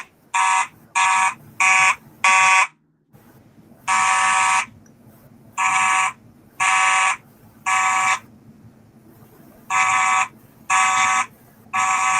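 Carbon monoxide and smoke alarms go off together indoors, sounding loud shrill electronic beeps in groups of about three with short pauses between, repeating steadily and close by.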